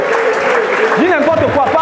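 A whole audience claps together in a hall while many voices talk over the applause at the same time, loud and continuous.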